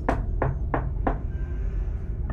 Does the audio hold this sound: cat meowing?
no